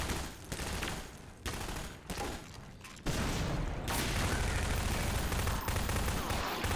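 Rapid gunfire while hunting in a video game, dense bursts of shots in a loud, continuous barrage with short breaks, with no talk over it.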